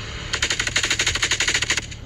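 A rifle fitted with a Rare Breed forced reset trigger fires a rapid string of about fifteen evenly spaced shots at an outdoor range, loud and close, in one sustained burst of under two seconds.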